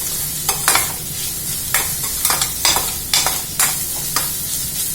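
Capsicum frying in a pan for a sweet corn sandwich, stirred repeatedly; steady sizzle with about a dozen sharp scraping strokes in an uneven rhythm, close and fairly loud, no voices.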